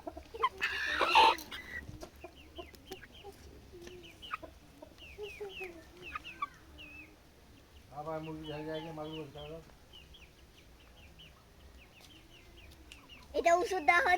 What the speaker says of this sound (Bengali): এটা ওষুধ দেওয়া হচ্ছে মুরগির, মুরগি ওষুধ দেওয়া হচ্ছে।